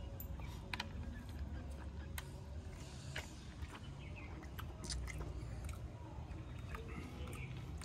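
Someone eats biryani with salad and mint chutney, and close, faint wet squishing and chewing sounds repeat irregularly over a quiet background.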